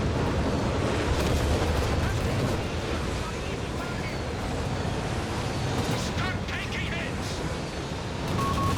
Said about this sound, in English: Another Nebula barrage here